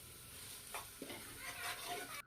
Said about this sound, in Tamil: அதனால் நல்லா மிக்ஸ் பண்ணி கட்டி இல்லாமல் கிளறி விடணும்.